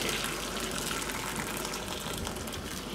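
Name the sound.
boiled water poured into a container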